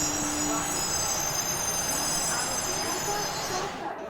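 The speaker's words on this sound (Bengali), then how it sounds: "ডাউন প্ল্যাটফর্মে একখানা প্যাসেঞ্জার ট্রেন" A passenger train pulls into a station platform with a loud, continuous rolling rumble and high metallic wheel squeal. The sound stays close and dense, then eases off at the very end.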